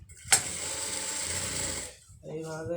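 Sewing machine running steadily while double stitching a round maxi dress, a continuous close mechanical whir after a sharp start, stopping near the end as a voice speaks briefly.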